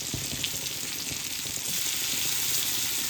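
Fish fillets frying in a pan just after being flipped, a steady close sizzle with faint crackles throughout, growing slightly louder toward the end, with no voices.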